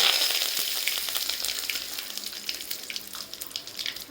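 Cumin, asafoetida and curry leaves sizzling in hot oil in a pan, a steady loud crackling hiss that slowly fades, with no talk.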